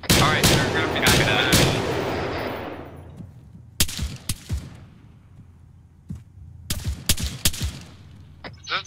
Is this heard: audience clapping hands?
no